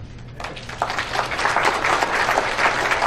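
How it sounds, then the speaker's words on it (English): An audience at a conference session breaks into applause that starts abruptly and swells into steady, full clapping from a roomful of people, continuing evenly to the end with no talking. "they deserve a round of applause for that"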